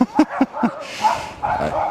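Several dogs bark in quick bursts, four sharp yaps evenly spaced at the start, followed by more scattered, rougher barking and yelping at moderate distance, with no talk.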